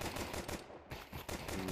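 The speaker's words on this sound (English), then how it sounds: "Shots ring out." Gunfire in Counter-Strike 2, a dense, moderately distant rattle of shots that breaks off for a moment and then resumes.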